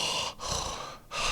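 A voice imitates heavy mouth breathing during sleep, with loud, raspy, airy breaths in a slow in-and-out rhythm, two long breaths separated by brief pauses, close to the listener.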